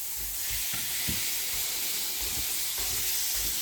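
Minced meat browning in a frying pan with onion and capsicum for a cheeseburger casserole, giving off a steady, dense sizzling hiss with a few soft stirring bumps, close and constant throughout.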